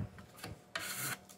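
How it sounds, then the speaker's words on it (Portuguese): A belt sander rasps against hardened acrylic body filler on a marine plywood sink cabinet, short scratchy strokes with a longer louder pass in the middle, close and without talk. "É a lixadeira de cinta."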